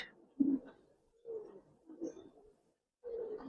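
Giribaz pigeons coo close by in soft low bursts, four or five throaty rolling calls with short pauses between them and no talk over them.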